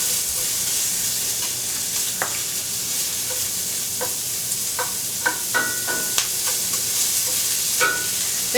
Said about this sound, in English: when the oil gets hot, I'm going to add my onions